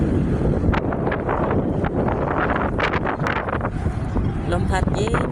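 Wind blowing hard at a high open spot while climbing a monument's stairs, roaring steadily into the microphone and buffeting it throughout, with people talking beneath.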